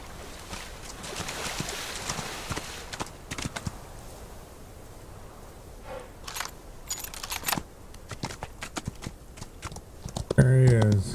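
Horse hooves clip-clop intermittently while riding in the Western game Outlaws of the Old West, near and moderately loud, with scattered clicks and louder thumps toward the end.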